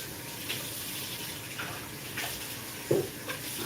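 Water running from a kitchen tap to refill a pot, a steady hissing stream with a few small clunks and splashes as the pot shifts, fairly close and without talk.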